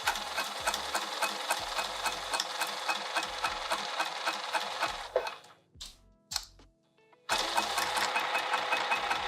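A sewing machine stitches a coffee press cozy with a fast, even mechanical chatter at close range. It stops for about two seconds, gives a couple of short bursts, then runs steadily again.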